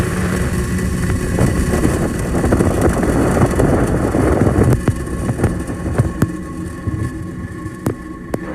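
A SpaceX Falcon 9 rocket's engines ignite at launch, a heavy continuous roar that fills the whole clip and stays steady and dense throughout, with occasional sharp crackles toward the end.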